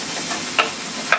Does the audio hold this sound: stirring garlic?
yes